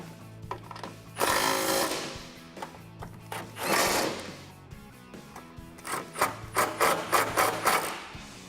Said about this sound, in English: Grab our 13mm socket. We're gonna tighten those guys down.